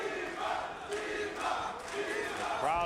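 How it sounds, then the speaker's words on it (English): Boxing arena crowd roaring and chanting in support of fighter Dmitriy Salita, a dense swelling mass of voices in rising surges, loud and without commentary over it. "The crowd behind their man, Dmitriy Salita."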